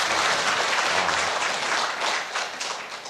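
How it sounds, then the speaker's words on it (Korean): Applause from a temple Saturday service congregation, a continuous, fairly loud crowd of clapping hands lasting the whole moment with no speech over it. "박수 쳐주세요."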